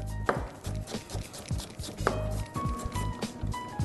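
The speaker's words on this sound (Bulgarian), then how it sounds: "Нарязвам си го, след което ще си нарежа и малко чесън, малко джинджифил" A knife chops red sweet onion on a cutting board, a steady run of sharp, close, fairly loud thuds in uneven rhythm with no talking over it.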